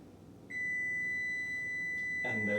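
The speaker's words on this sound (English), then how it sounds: "And there's the timer." A kitchen timer lets out a single long, steady, high-pitched electronic tone during chocolate almond cake baking, close and loud, with a brief clatter near the end.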